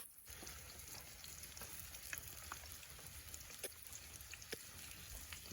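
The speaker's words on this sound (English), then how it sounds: "They start frying faster now." Saltfish fritters fry outdoors in the rain with a dense, steady sizzle and scattered crackling pops, faint and continuous throughout.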